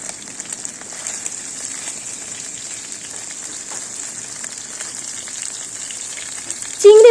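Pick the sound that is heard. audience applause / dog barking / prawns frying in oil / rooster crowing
prawns frying in oil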